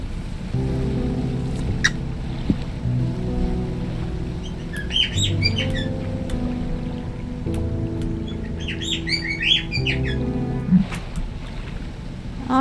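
Several birds chirp and tweet in bursts over a steady low hum of a boat engine and water ambience in the Dredge fishing video game, with no talk.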